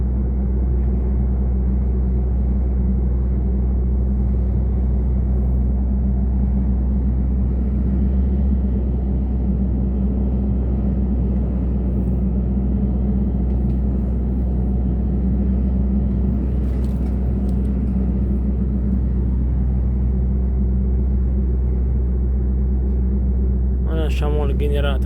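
Inside a car in a slow traffic jam on a Dutch road, a constant low engine and road rumble drones with no breaks, while people talk over it.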